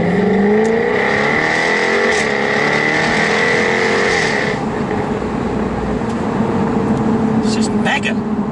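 A Jaguar Project 7 or Project 8 sports car engine revs hard and loud, rising in pitch with a deep roar, then settling into a rumbling idle with a few sharp blips near the end.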